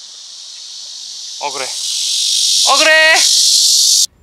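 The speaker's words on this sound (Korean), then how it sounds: "저렇게 멀리서 들리는 매미가 고음으로 울고 있는 매미가 털매미입니다" Platypleura kaempferi cicada singing a steady, high-pitched drone in the distance, continuous throughout and rising slightly, with brief voices speaking over it.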